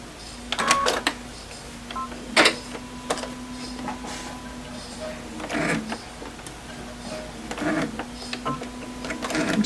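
A sewing machine stitching a fabric face mask runs in short bursts separated by pauses, with a faint steady hum and a few clicks from the machine between runs.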